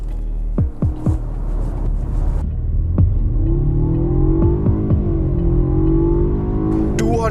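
A 2021 Jaguar XE SE turbocharged petrol automatic accelerates hard through paddle-shifted gears, its engine note rising repeatedly with distinct shift breaks between pulls, close and fairly loud from inside the car.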